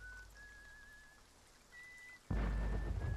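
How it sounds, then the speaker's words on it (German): Rain in the pirate game Sea of Thieves, a faint hiss with a thin whistling tone, then a sudden loud surge of downpour and rumbling that stays heavy to the end. "Es regnet, Sonnenschein."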